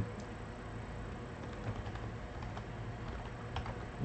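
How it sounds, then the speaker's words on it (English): Quiet tapping on a computer keyboard, a steady run of soft clicks that rise in a few small bursts over low background hum. "typing out the filler right now"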